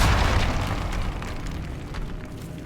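A Confringo spell explosion in Hogwarts Legacy, one heavy booming blast at the start that decays into a crackling, fiery rumble over the next couple of seconds, loud and close.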